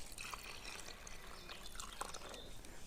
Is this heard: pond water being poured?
yes